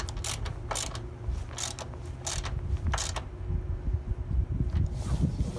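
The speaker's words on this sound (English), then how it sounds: "now I can go ahead and finish tightening down this one here." Ratchet wrench tightening a hood lift strut bracket bolt on a Jeep Wrangler JK, heard as several quick bursts of rapid clicking close up, with shorter strokes trailing off over low background hum.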